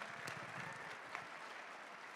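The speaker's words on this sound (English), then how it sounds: "Let's all give them a round of applause." Steady applause from the audience at a Martin Luther King Jr. celebration event after a rap battle, a dense continuous wash of clapping at moderate level with a faint crowd murmur.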